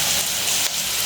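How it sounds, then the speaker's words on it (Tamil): Onions sautéing in a pan until golden for a meat curry, a steady, close sizzle with a brief crackling flare near the end. "வெங்காயம் பொன்னிறத்துக்கு வரும் வரையும் அதோடக்கா வதக்கி"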